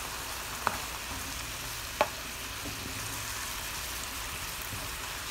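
Teriyaki beef sauce with A1 steak sauce simmers and bubbles in a pan with a soft, steady sizzle, while two sharp utensil taps mark the stirring.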